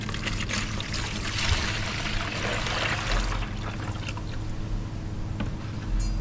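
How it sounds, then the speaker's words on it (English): Pump conditioning fluid for a Graco Nova 390 paint sprayer is poured into a container, a steady trickling, splashing flow that continues close by for several seconds over a low background hum, with no talking. "So I'm gonna try to pour it into this container."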